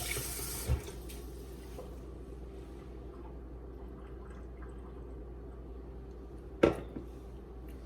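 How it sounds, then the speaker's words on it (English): Hands washed under a running kitchen tap: steady rushing water near the sink for the whole stretch, with a sharp clunk near the end, no talk. "let me get my hands washed"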